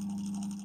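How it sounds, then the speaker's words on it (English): Bread maker with a broken drive belt, its motor turning steadily on the dough setting, a close, even mechanical hum lasting under a second with no talk. "You hear the motor turning."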